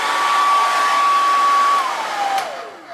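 A hair dryer blows with a loud, steady rushing whine while powered from a portable power station, then its pitch drops in steps as it winds down near the end.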